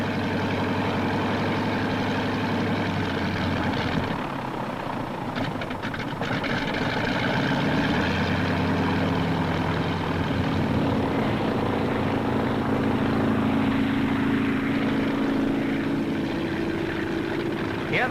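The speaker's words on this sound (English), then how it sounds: "Hear that engine? Colder than a Russian winter." A cold World War II aircraft engine runs before takeoff, a loud, continuous propeller drone with rough, throbbing low tones that shift in pitch over the stretch.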